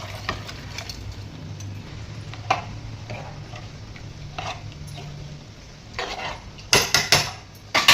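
Cooked chicken going into a pan of smashed masala, a few soft metallic clinks and scrapes of utensils against cookware over a low background hum, ending in a quick cluster of sharper clatters.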